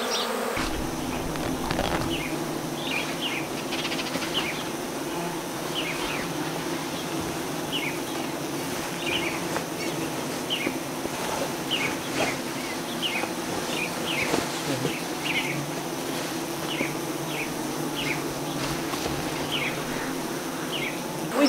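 Honeybees buzz around a bait hive holding old comb on a frame, a dense steady swarm hum with individual bees zipping close past, continuous throughout with no talk.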